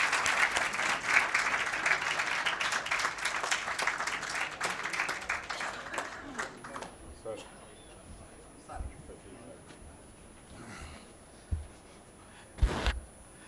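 Audience applause at a literary festival reading as the poet Amjad Islam Amjad comes on stage, dense clapping that thins and fades to scattered claps and faint movement.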